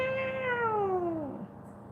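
A cat gives a single drawn-out meow that slides downward in pitch and fades, close and clear over a faint background hum, with no talking.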